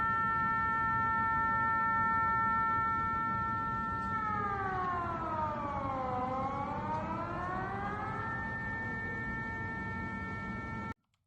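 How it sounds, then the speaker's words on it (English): Warning sirens sound in the Middle East as residents are told to take shelter. Several tones hold steady, then wail down and back up together over a constant rumble. The sound is loud and alone, with no talk, until it cuts off at the end. "sirens going off all over the Middle East right now"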